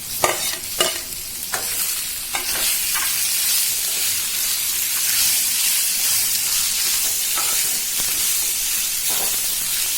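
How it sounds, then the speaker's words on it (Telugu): Cleaned prawns sizzle and hiss steadily in hot oil with fried ginger garlic paste for a prawn masala curry, with a few sharp stirring clatters early on and a continuous bright frying crackle throughout. "అల్లం వెల్లుల్లి పేస్ట్ కొంచెం వేగిన తర్వాత శుభ్రం చేసిన రొయ్యల్ని వేసుకోవాలి"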